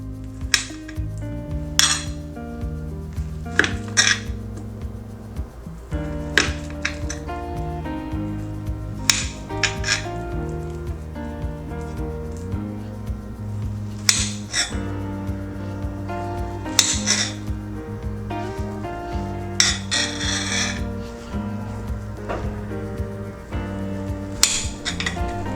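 Knife blade tapping a cutting board while angled slices of plantain are cut, a steady run of sharp, close clicks and knocks repeating alone over roughly twenty-five seconds.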